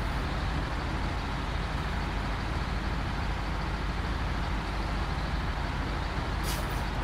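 A heavy truck engine labors steadily uphill in the video game SnowRunner, a continuous loud low rumble and drone with a brief hiss near the end, no talking.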